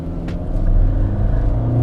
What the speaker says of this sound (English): Let's put it in drive, and let's just floor it.